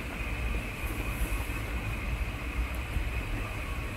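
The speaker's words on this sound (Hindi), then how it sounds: "वो ट्रेन मीडियम स्पीड में जा रही है।" A passenger train running at medium speed on the Solapur to Bengaluru line, a steady continuous rumble of wheels and carriage noise with a faint high whine, alone and without talk.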